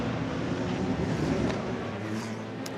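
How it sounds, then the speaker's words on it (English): Race cars rolling out onto the Le Mans circuit at night, a low, steady engine drone with faint tonal hum, heard quietly from a distance without any sharp passes or revving. "Cars are heading out onto the circuit"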